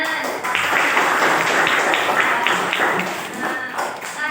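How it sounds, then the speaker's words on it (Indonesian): A class of students clapping their hands together, a dense run of loud, fairly rhythmic claps that fills the room, with some voices mixed in. "Tepuk tangan."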